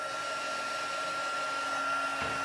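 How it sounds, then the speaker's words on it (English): A heat gun blows steadily to puff stamping embossing paint, a constant close whirring hiss with a high whine that shifts slightly near the end and never stops. "So we're just going to turn our heat gun on"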